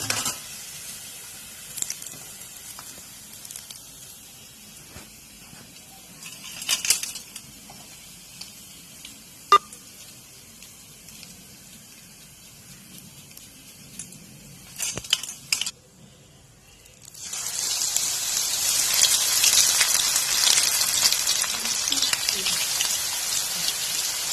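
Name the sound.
banana flower pakoda deep-frying in oil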